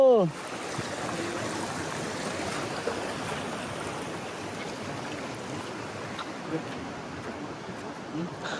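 Stream water rushing during a river crossing on foot, a steady broadband wash of flowing water throughout, fairly close and continuous.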